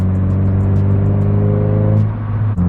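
Honda Del Sol engine droning steadily from inside the car while driving, holding a constant low hum with an even pitch that drops slightly near the end.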